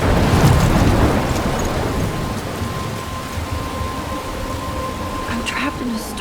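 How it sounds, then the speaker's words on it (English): A storm in the video game Life Is Strange: steady, heavy rain pours continuously with a low rumbling undertone of thunder and a few faint higher sounds, filling the whole stretch without spoken words. "I'm trapped in a storm?"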